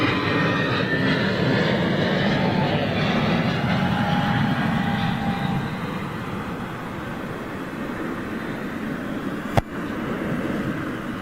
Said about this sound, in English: Here's our aircraft. 321 Neo.